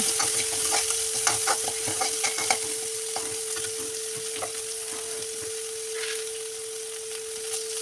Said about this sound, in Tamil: சின்ன வெங்காயம், நான் ஒரு 10 சின்ன வெங்காயம் எடுத்துருக்கேன், அதை நல்லா வதக்கிக்கோங்க.